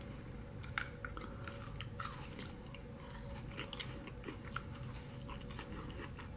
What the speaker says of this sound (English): it's very crunchy and it has a seed inside. You don't eat the seed, so you just bite it.